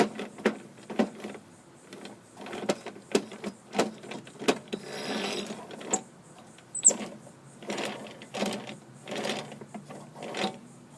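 Worn plastic drive teeth on a 2004 Toro Recycler mower wheel freewheeling, giving a series of quick rattling, clicking bursts in an uneven rhythm, close and moderately loud with no talking.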